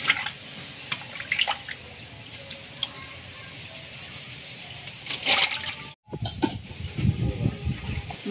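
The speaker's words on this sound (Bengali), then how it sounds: "মাছে একটু নুন দিয়ে ধুয়ে নেব" Bhola fish is washed with salt under running water, with tap water splashing and sloshing in uneven bursts, a brief break, and faint bird calls in the background.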